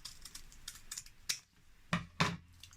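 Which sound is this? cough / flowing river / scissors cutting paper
scissors cutting paper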